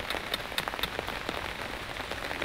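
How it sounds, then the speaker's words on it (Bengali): Heavy rain pours steadily on a village courtyard, a dense continuous hiss with scattered louder drops and splashes throughout, close by and with no voices. "কি করবো, এত বৃষ্টি।"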